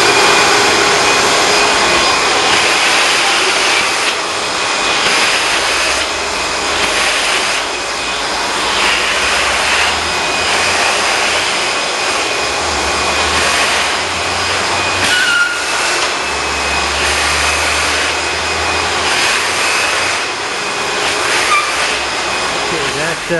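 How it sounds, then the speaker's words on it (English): A vacuum cleaner fitted with a soft bristle attachment runs over a wood floor during refinishing, giving a loud, steady, roaring whine with a high tonal edge that continues without a break throughout. "Vacuum with that little attachment was a soft attachment."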